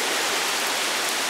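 Hurricane Isaac wind gusting around 25 to 45 mph, a loud unbroken rushing roar with a rain-like hiss that stays steady and close throughout.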